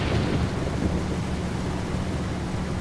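Steady rain and rumbling thunder in the Euro Truck Simulator 2 driving game, a dense continuous wash of rainfall with low rolling rumble, fairly loud and even throughout with no talk.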